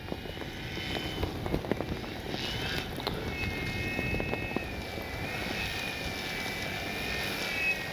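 A FLEX RV-8 radio-controlled model airplane flies with a buzzing propeller engine, its high whine rising and falling as it passes at moderate distance over a windy, noisy outdoor background.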